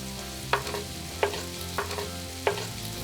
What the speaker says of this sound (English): while the onions are frying off, I'm just going to get my garlic